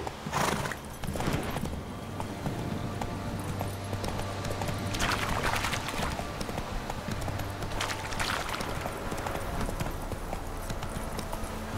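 Roach the horse galloping in The Witcher 3 video game, steady hoof clip-clop under game music with a couple of whinnies and bursts of louder movement, no talking.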